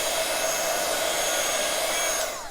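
A heat tool dries stamped card ahead of embossing, a loud, steady high-pitched whooshing blow that runs unbroken and alone, then cuts off and trails away at the end.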